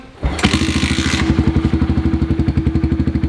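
A worn pit bike engine with very low compression suddenly catches and runs, a thump followed by a steady, loud, close putter of rapid rhythmic firing pulses, with no talking.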